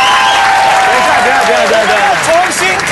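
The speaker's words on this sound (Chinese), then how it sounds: "工作人员掌声鼓励一下。" Game-show staff break into steady applause, a dense continuous wash of clapping from a group in a studio, with a voice speaking over it near the end.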